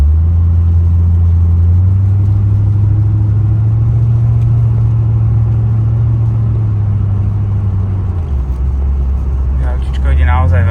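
A 1993 Chevrolet Corvette C4 with the LT1 5.7 V8 cruising smoothly at low speed, a steady loud engine drone and road rumble throughout that dips briefly near the end, with someone talking over it.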